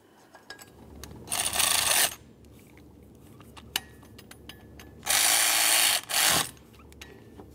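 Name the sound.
ratchet snugging water pump mounting bolts, Mercury Grand Marquis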